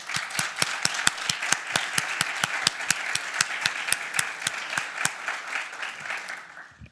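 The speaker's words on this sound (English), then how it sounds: "I would like that we give them a warm round of applause" Audience at an EU launch event in Brussels gives officials a warm round of applause, a dense burst of many hands clapping that fades out at the end with no talk over it.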